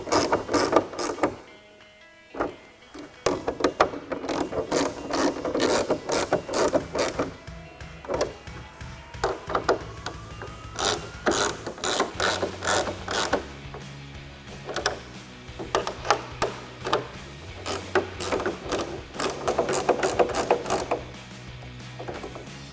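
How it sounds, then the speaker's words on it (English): A 10mm ratcheting wrench tightens the rear spoiler bolts on a 2024-2025 Mustang Dark Horse, with rapid repeated ratchet clicks in bursts and short pauses, close and fairly loud, no talking. "And then grab a 10mm ratcheting wrench,"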